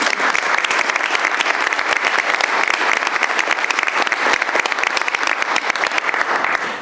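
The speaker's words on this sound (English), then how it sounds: "Let's give a round of applause." Loud, dense round of applause fills a county board meeting room, many hands clapping steadily and evenly for several seconds with no voices on top.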